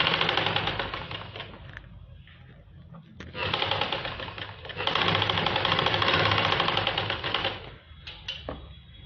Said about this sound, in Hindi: बिल्कुल सिलाई के किनारे किनारे सिलाई लगानी है।